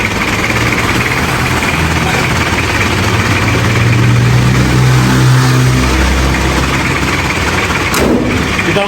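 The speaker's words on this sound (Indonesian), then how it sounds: "Kita matikan mesinnya biar nggak berisik" A 1994 Isuzu Panther Hi-Grade diesel engine runs close by and revs up and down, a rough rumbling drone that rises mid-clip and falls back, ending with a brief sharp click.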